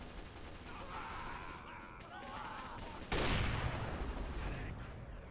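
Rapid gunfire rattles through a Team Fortress 2 Versus Saxton Hale match, with a sudden louder burst of shots midway and continuing bursts afterward over game noise.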